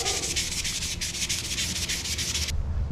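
Steady back-and-forth sanding of boat trailer roller rods with 800 grit wet-or-dry paper, a close, even rasping rub in quick rhythm that stops near the end.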